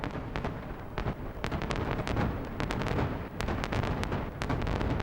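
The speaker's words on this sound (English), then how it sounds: "Now it's a splendid show. This is Dove fireworks." Dove-shaped fireworks at an APEC display burst in a dense, irregular barrage of sharp cracks and booms, loud and continuous with overlapping reports and no talk.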